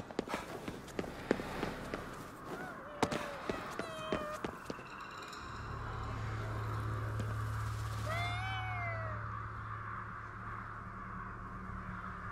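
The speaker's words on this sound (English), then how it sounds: "Are you trying to shake down a cat?" A cat meows several times in the video game Ghostwire: Tokyo, with clear rising and falling calls up close over footsteps and a low steady ambient hum. Occasional crow-like caws are also heard.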